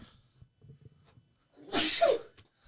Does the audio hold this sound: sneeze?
yes